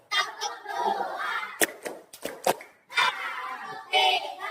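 A classroom of children clap in unison on cue, several crisp claps in quick succession amid group chanting and a teacher's voice.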